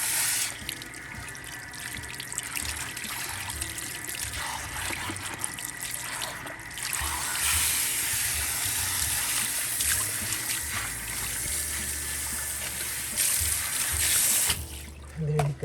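Salon shampoo hose spraying water over hair during a wash, a steady hissing spray running almost continuously for about fifteen seconds, close up, with a short break near the end.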